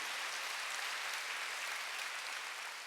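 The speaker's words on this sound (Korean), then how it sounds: "박수 하세요" Even, sustained applause from a congregation fills a church service for about three seconds, dense and steady with no talk over it.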